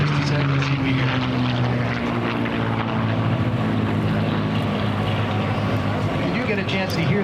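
Steady F-16 fighter jet roar with a faint tonal whistle from the gun ports gliding slowly across the noise, continuous and loud, with indistinct voices beneath.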